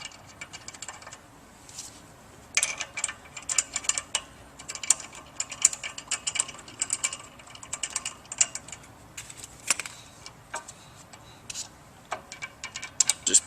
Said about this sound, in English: We'll just begin inserting the bolts.